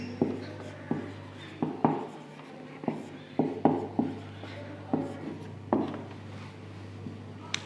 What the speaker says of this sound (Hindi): तो इसका आंसर हम लोग लिखते हैं